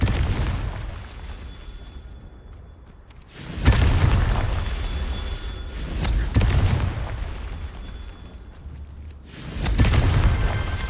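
Confringo explosion spells go off in a Harry Potter video game as a series of deep, loud booms. Each one bursts and then rumbles away, with brief quiet gaps between them.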